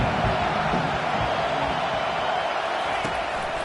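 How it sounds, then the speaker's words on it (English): A stadium crowd roars during a third-down defensive stand at an SEC college football game against Tennessee, a loud sustained wash of cheering and noise, with broadcast commentary talking over it. "Decibels rising as the crowd gets behind this defense on 3rd down."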